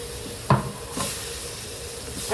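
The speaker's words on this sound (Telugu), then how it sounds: "ఇవి మిక్సీలో పట్టిన మసాలా నీళ్ళండి వేస్తున్నాను." Masala water from the mixer is poured into a pan of frying green chilli chicken curry, giving a sharp burst of sizzling followed by a steady hiss and bubbling, close and alone.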